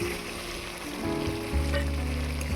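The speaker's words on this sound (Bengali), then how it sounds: "এবারে দিয়ে দেবো ভেজে রাখা পটল।" Fried pointed gourd goes into a spiced masala, and a steady close sizzle rises in strength partway through, then keeps crackling with no talking.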